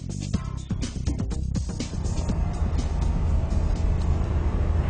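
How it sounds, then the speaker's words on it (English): A Transition flying car drives along a road, with steady, close engine and tyre noise rolling continuously throughout. "The Transition's a really fun flying car to drive."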